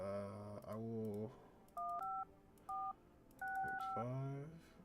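A phone number is keyed in within a video game, a series of short paired DTMF tones in quick bursts, with a person talking before and after the dialing.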